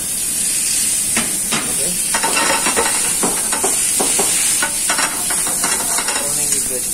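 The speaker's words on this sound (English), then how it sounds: "Browning the vegetables." Vegetables for seafood pasta sizzle and fry in a hot pan, a constant loud hiss with scattered crackles and stirring scrapes throughout; a voice briefly speaks over the frying.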